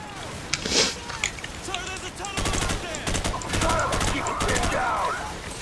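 Rapid automatic gunfire crackles in a Call of Duty: Modern Warfare battle, with dense bursts of shots and scattered impacts building in intensity over the game's background noise.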